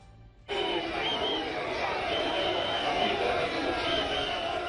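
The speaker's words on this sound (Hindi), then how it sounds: "भीड़ किस तरीके से उमड़ी है मेरे पीछे" A huge crowd of pilgrims at the Maha Kumbh bathing site breaks in suddenly as a dense, steady roar of many voices, with a voice speaking over it.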